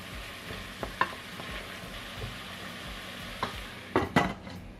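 Lasagna soup bubbling in a pot on the stove as pasta is broken up and stirred in, a soft simmering hiss punctuated by several sharp clicks and knocks of utensils against the pot.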